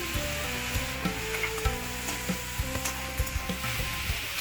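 Drumstick pieces and amaranth stems being stirred in a frying pan, a steady sizzle broken by regular spoon scrapes and knocks, close and without talk.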